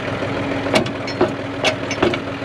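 A tractor with a corn planter hooked on idles nearby in a steady mid-pitched rumble, with a few short clanks or knocks at intervals over the engine drone.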